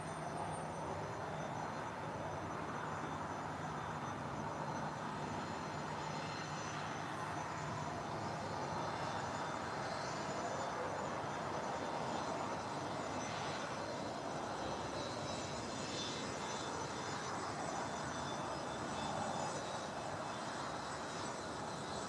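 A JetBlue airliner on approach to land at LAX rumbles with a steady, broad engine roar that holds constant throughout, heard from a distance at moderate loudness with no talk.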